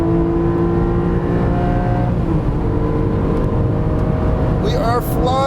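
Porsche 718 Boxster/Cayman GTS 4.0 engine accelerating hard down a straightaway, a loud steady drone with rising harmonic tones, mixed with wind and road noise; it climbs in pitch near the end, with no talk.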